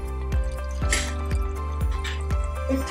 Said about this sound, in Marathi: जरा पाणी घालते.